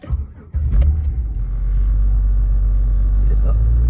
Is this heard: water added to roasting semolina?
no